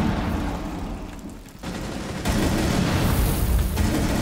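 A long burst of gunfire in an online ranked shooter game cuts in abruptly and roars loudly for over a second amid dense game noise, with no voices.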